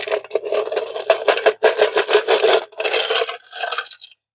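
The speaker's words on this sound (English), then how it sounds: "Dumping bolts off." A pile of metal bolts dumped out of a BMW bike basket, giving a dense, continuous clattering rattle of metal pieces tumbling and jangling for about four seconds before stopping abruptly, close and loud with no talk.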